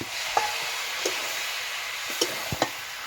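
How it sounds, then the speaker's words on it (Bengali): Ridge gourd, jackfruit and potato curry frying in a pan, a steady soft sizzle with a few light stirring clicks and taps scattered through, close and alone. "এখন আমি এটাতে একটু জল দেবো। আমি জল দিয়ে দিচ্ছি একটু"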